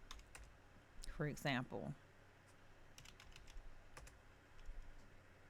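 Soft, quick keystrokes on a computer keyboard tap out a short search, scattered clicks continuing faintly around a brief spoken phrase.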